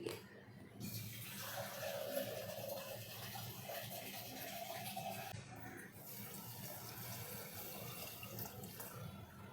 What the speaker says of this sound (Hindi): पानी ऐड कर लिया है।